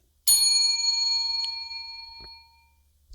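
A single bright bell ding rings out close and clear, then its metallic tone slowly fades over about two seconds, leaving near silence.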